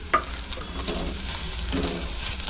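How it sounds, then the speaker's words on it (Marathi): Grated coconut stirred and roasted in a pan on the stove, with a soft continuous sizzle and a few scraping stirs against the metal, close and steady with no voices. "आणि खोबरं घेते परतून."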